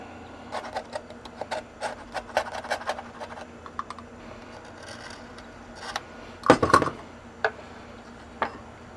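A knife carves wood in quiet, irregular scraping strokes, short rasping bursts with pauses between them and one louder cluster of cuts near the end.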